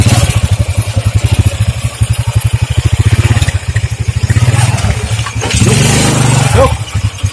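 A motorcycle engine runs nearby with a loud, rapid popping putter, swelling and easing as the throttle changes, then a brief clattering burst near the end.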